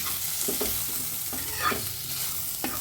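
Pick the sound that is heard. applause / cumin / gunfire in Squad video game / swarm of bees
cumin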